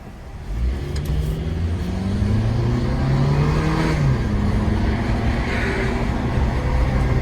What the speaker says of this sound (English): Engine runs just like a little sewing machine.